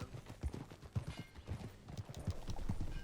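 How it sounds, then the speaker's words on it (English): A horse's hooves clip-clop at a steady riding pace in the Red Dead Redemption 2 video game, soft and rhythmic over quiet ambient sound. "Monte no seu cavalo, bora lá."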